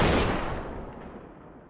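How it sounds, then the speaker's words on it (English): A gun firing in the Roblox video game, one loud dense burst of shots up front that rolls off into a fading echoing tail, no talking. "Oh, no, I'm shooting."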